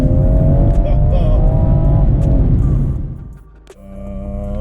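A BMW M240i with a Bootmod3 Stage 2+ tune launches and accelerates hard in sport mode, a loud, close engine roar that dips sharply on a gear change before climbing again.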